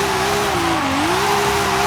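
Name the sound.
BMW M3 engine revving in Forza Horizon 5 video game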